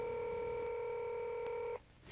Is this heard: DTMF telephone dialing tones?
yes